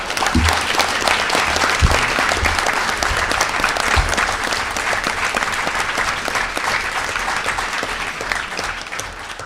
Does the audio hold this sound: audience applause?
yes